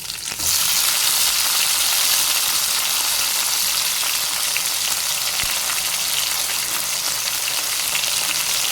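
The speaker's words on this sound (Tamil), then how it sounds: "தக்காளி சேர்த்து நம்ம நல்லா வதக்கிக்கலாம்" Chopped tomatoes sautéing in a pan of oil with curry leaves for a Tamil kuzhambu, giving a loud, steady sizzle that carries without a break, with no voices.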